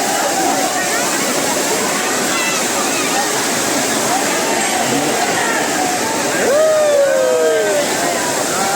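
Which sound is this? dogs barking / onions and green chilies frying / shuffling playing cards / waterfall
waterfall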